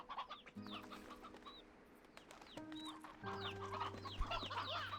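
Sea hens in a slime-ranching video game cluck in short repeated bursts over steady background game music, with a brief louder cluck near the end.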